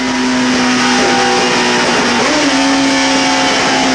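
A 2001 Suzuki GSX-R1000 sport motorcycle engine held at its 12,800 RPM rev limiter, a loud, steady high-pitched scream with a slight pitch dip and recovery midway, no talking.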